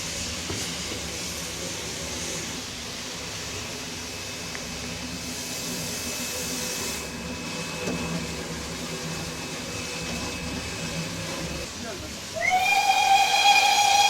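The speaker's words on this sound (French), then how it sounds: "Et la locomotive se met en mouvement progressivement." Steam locomotive at a steam festival gradually pulling away, a steady hiss of escaping steam with rumbling mechanical noise, then a loud whistle-like tone bursting in near the end.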